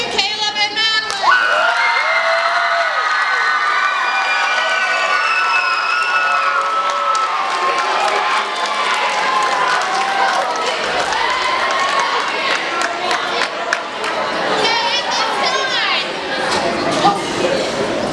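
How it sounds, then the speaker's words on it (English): Audience cheering and applause at a middle school talent show award announcement, a dense sustained crowd noise of clapping, shouting and excited children's voices filling the whole stretch. "I think he deserves a round of applause"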